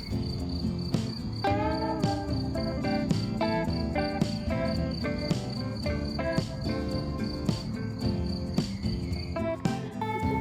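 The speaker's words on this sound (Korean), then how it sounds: "귀뚜라미와 새소리가 함께하는 아주 평화로운 시간이었어요" Crickets chirp in a steady, rhythmic pulse, with a few brighter bird calls mixed in; a calm early-summer outdoor evening in Switzerland, with no talking.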